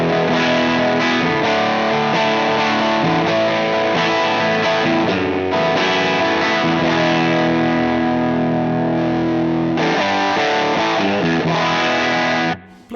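Electric guitar played through the Safari Pedals Cobra Fuzz plugin with the fuzz blended into a slightly driven tone, giving thick sustained chords and riffs that ring continuously and loudly before cutting off at the end.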